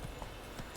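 Horse hooves clop in a short, faint burst of a few beats while riding in The Witcher 3 game.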